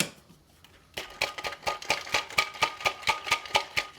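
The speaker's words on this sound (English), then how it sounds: "I'm just doing this to break up the ice so that the water comes out a little bit easier." Ice is broken up inside an insulated cup, such as a Yeti, Corkcicle, MyBevi or Ozark Trail tumbler, as a rapid series of sharp crunching and rattling knocks in a steady rhythm, close and fairly loud.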